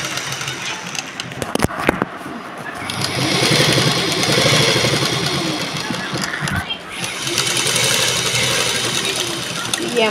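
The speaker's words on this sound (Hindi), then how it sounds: "तो हम दूसरी तरफ भी सिलाई कर लेंगे, इसको अच्छी तरह पकड़ लें क्योंकि बहुत मोटा है।" A sewing machine stitches through a thick lehenga choli with a steady, whirring mechanical hum that rises and runs for several seconds, while someone talks over it.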